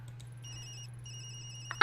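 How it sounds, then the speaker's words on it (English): A phone rings in the video game Tokyo Dark, a short electronic trilling tone repeating in bursts over a low steady hum, ending in a louder chime. "Sorry, Yumi, that's my phone."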